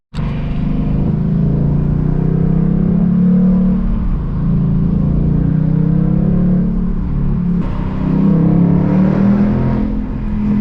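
A Ford Mustang GT 5.0 V8 with a six-speed manual accelerates hard, its loud, close engine rumble rising in pitch through gears, with a brief shift dip and renewed surge near the end.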